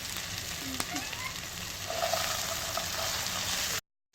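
Chicken pieces hitting hot oil in a pan for Schezwan chicken fried rice, giving an even, close crackling sizzle that holds steady for a few seconds before cutting off abruptly.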